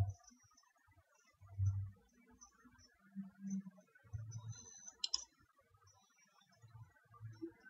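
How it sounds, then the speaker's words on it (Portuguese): Computer mouse clicks while installing a WordPress theme, a few sharp isolated clicks, one crisp pair near the middle, over faint low murmurs and soft room noise, quiet and close. "Vou clicar aqui em instalar."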